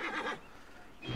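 A short, bright horse whinny rings out briefly in the video game Assassin's Creed Origins, fairly faint, with a soft rumble trailing after.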